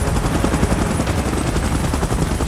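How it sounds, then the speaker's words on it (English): A PUBG Mobile helicopter chops loudly and steadily at close range, its dense rotor pulsing mixed with rattling bursts of gunfire throughout, with no voices. "Chopper in position."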